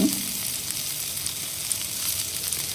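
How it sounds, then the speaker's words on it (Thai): Lemongrass, ginger, shallot, garlic, pepper and soup spices stir-frying in a pan, a continuous loud, close hissing sizzle that stays steady throughout with no voices. "เสร็จแล้วก็ผัดทุกอย่างให้เข้ากันจนมีกลิ่นหอมค่ะ"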